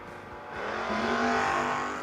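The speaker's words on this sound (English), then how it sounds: "Michaels down in 698, 4th Gen Camaro" A 4th Gen Camaro drag racing in a No-Box 660 shootout roars down the track, engine note rising steadily as it accelerates away, loud and close, with no talk over it.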